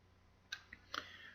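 A computer mouse clicks while navigating the V-Rep / CoppeliaSim robotics software: two or three faint, sharp clicks, close and isolated, over a quiet room background.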